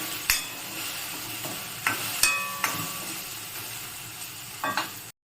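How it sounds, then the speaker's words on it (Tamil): Mixed vegetables sautéed with sambar powder for tamarind kuzhambu hiss softly in the pan while a ladle taps and scrapes the vessel at irregular intervals. "போட்டு நல்லா கிளறி விடுங்க, வதங்கட்டும்."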